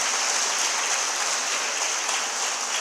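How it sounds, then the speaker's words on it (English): An audience claps at a model UN conference event, a steady wash of applause filling the whole moment at close range without any speech. "please give them a big applause"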